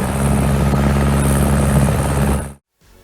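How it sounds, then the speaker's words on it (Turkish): A steady, loud engine rumble with a throbbing, chopping drone that runs continuously, then cuts off abruptly near the end. "İşte traktör bu şekilde ses çıkarır."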